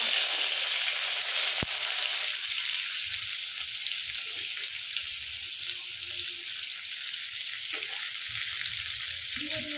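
Cumin and garlic fry in a pan with a loud, continuous sizzle that runs through the whole stretch. Faint clinks and stirring sounds come and go underneath the hiss.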